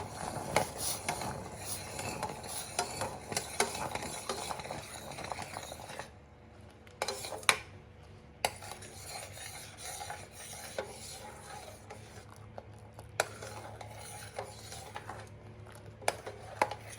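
A spoon scrapes and clinks steadily around a pot while a mixture of coconut water and plain water is stirred before heating, the rhythmic stirring scrapes close and fairly quiet, with a brief lull partway through.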